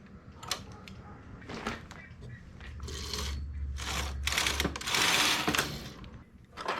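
A knitting machine carriage is pushed across to make a row, giving a rising mechanical sliding rumble with clacks and ratcheting knocks, loudest in a long sweep near the end, close by with no talk.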